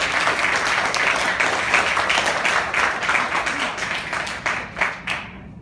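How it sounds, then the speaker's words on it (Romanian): An audience applauds a speaker at a Romanian speech event with a sustained burst of close clapping that thins out into a few scattered last claps before fading to quiet. "Să o primim cu aplauze pe Cristina."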